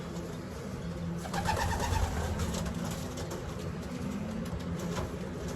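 A young racing pigeon coos softly in a loft, a faint, low murmur rising briefly near the middle over a quiet background hum.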